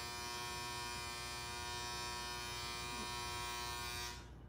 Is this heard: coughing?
no